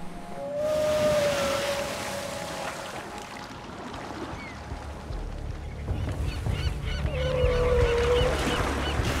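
Seabirds call in loud honking cries over the open sea where a Bryde's whale is surfacing, with two drawn-out calls standing out against steady wind and surf.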